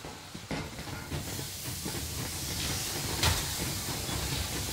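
A steam train pulling away in the Metro Exodus video game, with a steady hiss of steam and low rumbling, and a sharp burst of steam about two-thirds of the way through. Nobody speaks.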